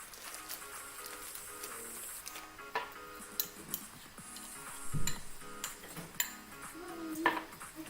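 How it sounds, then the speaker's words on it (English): Cupcake icing stirred in a bowl, soft irregular scrapes and clinks of a utensil against the bowl, quiet and close with a few sharper knocks. "my icing at the bottom is not really mixed, so I'm just mixing it up"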